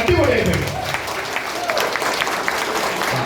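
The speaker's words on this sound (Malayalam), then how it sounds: "കൈയടിക്കണമെങ്കിൽ കൊപ്പറക്കളത്തിൽ ചട്ട വാരിടുന്ന മാതിരി കൈയടിക്കണമെങ്കിൽ അടിപൊളിയായിട്ട്" Audience applause at a Malayalam motivational talk, a steady, dense wash of clapping that fills the room for the whole moment. A voice-like tone is briefly audible near the start.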